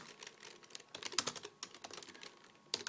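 Rapid typing on a computer keyboard, close and fairly quiet, with irregular bursts of keystrokes and brief pauses, no voices.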